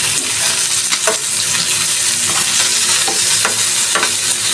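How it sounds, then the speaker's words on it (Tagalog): Marinated chicken cooking on a barbecue grill, a loud continuous sizzle close up with repeated scraping and clacking as pieces are turned, no talking. "Chicken barbecue. Ito, malapit na to. Yan, no? Malapit na to maluto."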